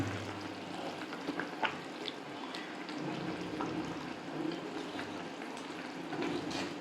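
Catla fish curry with vegetables and bay leaves bubbling in a covered pot after ten minutes of boiling, a steady close simmer with soft bursts and faint sizzling throughout, no talking.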